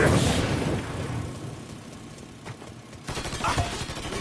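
Gunfire crackles in the video game Mafia 3, bursts of shots and blasts ringing out over a few seconds, fairly loud with a rough, busy texture.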